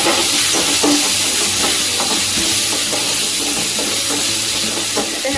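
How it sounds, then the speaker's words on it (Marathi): Tomato fries in a pan with ginger, garlic and asafoetida for a Maharashtrian brinjal bharit, a loud continuous hiss and sizzle close up with faint stirring scrapes and no speech. "हिंग थोडंसं हे झालं की आपल्याला टोमॅटो भाजायचा आहे याच्यामध्ये"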